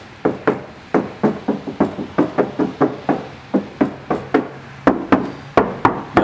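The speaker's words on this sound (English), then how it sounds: "I will do one last knock while I've got the video going" Knuckles rap on the door panel of a 2004 BMW X3 E83, a fast, steady run of about twenty hollow knocks, close and fairly loud, with no talking.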